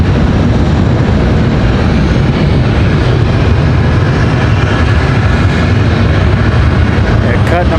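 A United airliner lifts off the runway at Raleigh-Durham airport, a loud, steady broadband engine roar with heavy low rumble holding constant throughout, heard close and unbroken.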